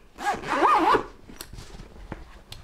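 A zipper pulled open on an oilcloth bag, a close, quick rasping run of about a second followed by faint handling rustles and small clicks.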